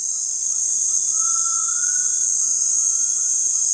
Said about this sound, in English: The crickets are the voice of the approaching night.